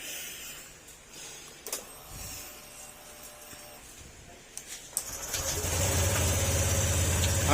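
Car engine with a repaired crankshaft starting up after faint workshop clatter, then running at a steady, even idle that grows louder and continuous over the last few seconds.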